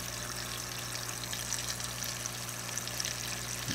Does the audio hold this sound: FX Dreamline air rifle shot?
no